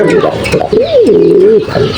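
Pigeons cooing nearby: a loud, rolling, low coo that swells and falls, with softer coos around it.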